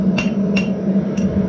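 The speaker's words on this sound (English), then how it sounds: "then you're going to flip it over and start hammering back towards yourself" A blacksmith strikes a hot steel hotdog fork on an anvil three times at an irregular pace, each blow a bright metallic ring over a steady low background hum.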